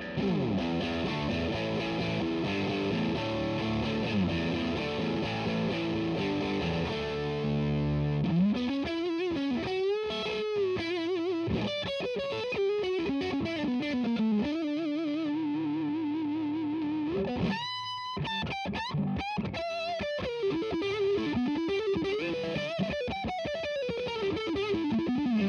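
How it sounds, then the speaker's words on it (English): Electric guitar through a Fulltone Mas Malo heavy distortion pedal with the main distortion turned up: chords then sliding single notes with a buzzing, saturated, fuzzy tone, loud and continuous. "If I start dialing up the main distortion control,"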